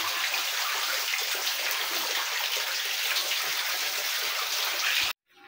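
Water gushing steadily from a pipe outdoors, a loud continuous broadband rush that runs unbroken until it cuts off abruptly near the end.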